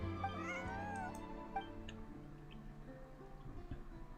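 A cat meows nearby in a few drawn-out, wavering calls over a steady low background hum, followed by fainter ticking and rustling.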